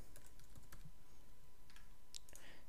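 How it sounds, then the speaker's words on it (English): Keys clatter faintly on a Mac computer keyboard as an IP address is typed in, giving a sparse, uneven run of soft close taps over a quiet room hiss. "here you will need to type in your IP4 address"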